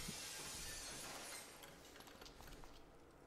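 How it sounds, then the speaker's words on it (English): Glass breaking in the video game Dead Synchronicity, a window muffled by a seat cover: a dense, noisy crash that fades after a second into scattered faint tinkles of falling shards, heard alone. "let's cross our fingers that the seat cover absorbs the noise of the breaking glass"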